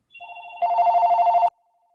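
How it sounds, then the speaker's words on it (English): A telephone rings loudly and alone in one electronic trilling burst, starting softly and then swelling into a rapid warble that cuts off abruptly. "I do apologize for the phone ringing."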